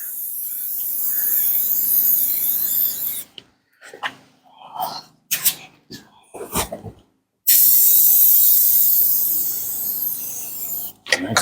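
Spray paint hisses steadily onto a vintage Holiday Rambler trailer, loud and close in two long bursts with a stretch of quieter rubbing and scattered handling noises between them.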